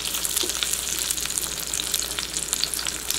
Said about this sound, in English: We're going to saute it on the other side, which is the crumb side